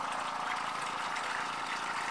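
Water pump running during a bass fishing tournament, pushing a steady gushing flow of water even on its low setting, a constant rushing hiss with a faint motor hum beneath, no pauses.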